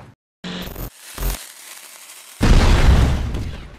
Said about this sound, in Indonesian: Bumper itu yang tadi ada sebelum kita ngobrol, ada yang meledak. Oh, bom ya?